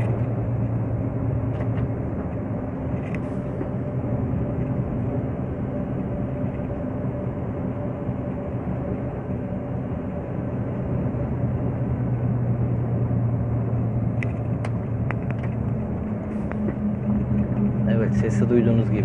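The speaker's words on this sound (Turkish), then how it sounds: "Sesi duyduğunuz gibi hem vites düşüp hem frenimi okşuyorum." A heavy truck downshifts and brakes while driving through dense snow, a steady low engine drone with a constant whine running throughout, close and continuous, with faint clicks near the end.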